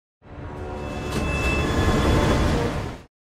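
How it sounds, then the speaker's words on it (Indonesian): A train rumbles along steadily with broad mechanical noise and a faint high whine, building slightly and then cutting off. "Kristen dan Vinek menaiki kereta"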